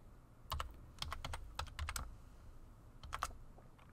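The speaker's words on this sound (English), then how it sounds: "we're going to do that by putting in the password" Keys tapped on a work PC keyboard while a password is entered: short bursts of crisp, close clicks in quick irregular runs, pausing midway and then a final few strokes, with no voices.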